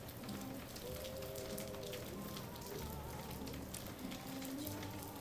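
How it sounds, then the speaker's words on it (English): Steady rain falls outside on a wet day in Atlanta, a soft continuous patter heard from indoors, with faint low tones in the background and no talking. "you can tell it's been a bit rainy here in Atlanta"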